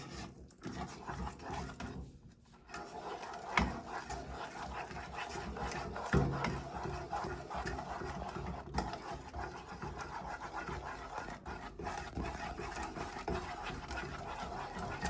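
A spoon stirs loose, lumpy dough in a mixing bowl as it is worked round and round, giving a steady, close scraping and ratcheting rustle that runs throughout with small knocks against the bowl.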